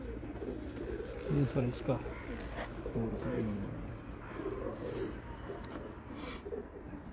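Pigeons coo in low, rolling phrases on a rooftop pigeon loft, repeating through the clip beneath steady talking by men nearby.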